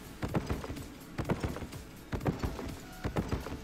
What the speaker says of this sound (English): Yeah, the donkey's here.